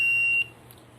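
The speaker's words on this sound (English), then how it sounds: "and at start it will beep" A steady high electronic beep sounds as an ultrasonic proximity switch circuit built on an HC-SR04 sensor, with no microcontroller, powers up on 5 volts. The tone holds briefly, then cuts off, leaving faint background hiss.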